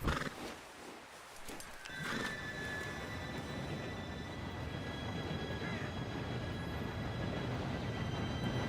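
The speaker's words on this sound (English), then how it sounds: "Train should be here any minute now." An approaching train in the Red Dead video game, a low rumble building steadily under ambient outdoor sound, with whistle-like tones and horse-like whinnies layered in, growing louder toward the end.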